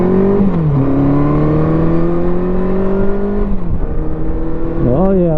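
A 1987 Honda GL1200 Goldwing motorcycle with freshly repaired carburetors accelerates along an open country road between fields, its engine tone rising steadily through the gears with brief dips at each shift, loud and close under wind.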